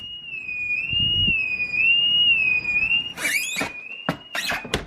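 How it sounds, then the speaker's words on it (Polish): A high, piercing home alarm wails continuously during a power outage and wavers slightly in pitch, close by, with a few sharp clicks and knocks near the end. "w momencie jak brakło prądu, nasz alarm się włączył i on tak będzie wył"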